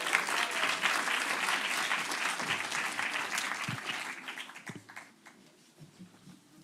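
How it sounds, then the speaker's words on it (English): A conference audience breaks into sustained applause for a speaker, dense and steady, then thins out to scattered claps as it fades near the end. "Please give Esther a round of applause."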